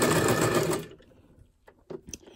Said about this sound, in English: So I'm just going to do a quick double stitch or back stitch